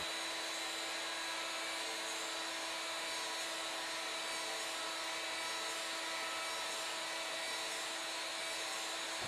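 A CNC mill turns a wooden Native American flute, a steady high-pitched machining whine with a constant motor drone, loud and unbroken throughout with no voices.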